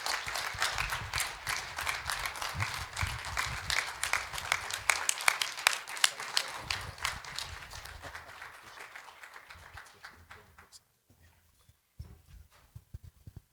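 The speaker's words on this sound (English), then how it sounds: "let's give one more round of applause" Applause after a talk at an education conference starts as a lively round of many hands, then thins into scattered, separate claps and dies out to near quiet, with a few faint sounds at the end.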